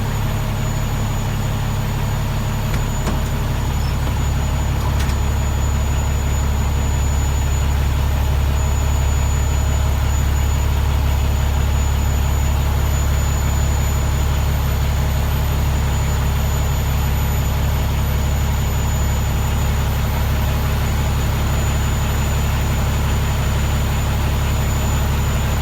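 Steady low rumble of a 2013 Peterbilt 386 daycab tractor's 450 HP Cummins diesel, heard from inside the cab with the stacked exhaust just outside, droning evenly and continuously throughout with no voices.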